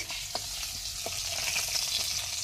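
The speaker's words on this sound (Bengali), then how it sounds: "বৌদি ভাজা করছে।" Pabda fish sizzles in a pan of oil in a home kitchen, giving a steady nearby crackle with a few soft taps of stirring, heard alone without talk.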